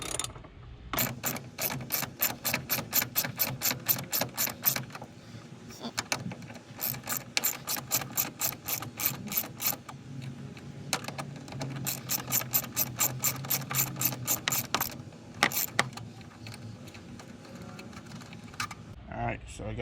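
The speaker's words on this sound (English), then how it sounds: "taking this bolt off first" Ratchet wrench loosening a bolt on a 2019 Dodge Challenger Scat Pack during a Hellcat airbox install, with fast close clicking in several long bursts broken by short pauses.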